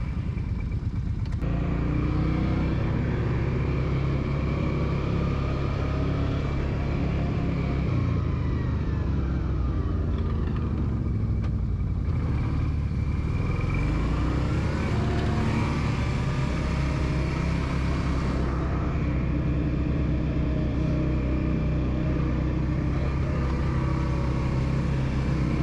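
An ATV engine while riding in Crowsnest Pass, Alberta, a loud continuous close drone that rises and falls with throttle for the whole stretch, with no voices.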